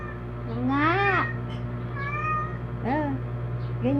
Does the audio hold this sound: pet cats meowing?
yes